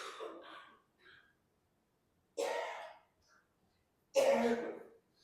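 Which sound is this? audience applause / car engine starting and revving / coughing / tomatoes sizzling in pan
coughing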